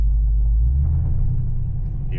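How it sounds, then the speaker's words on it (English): A Holden VF2 SS exhaust with its bimodal valves shut gives a deep, steady low rumble up close, muffled and constant like a factory car at idle. "it just sounds like a factory car with the bimodal shut"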